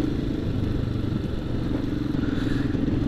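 A Royal Enfield Himalayan motorcycle rides along hill roads, its engine a steady, close, rumbling drone with light clatter and no change in pace.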